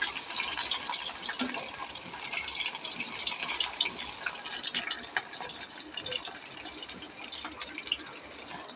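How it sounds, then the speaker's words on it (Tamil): Fish frying in a pan gives a steady, close, bright sizzle with crackling spits throughout. "செம்மையாக மீன் பொரியுது"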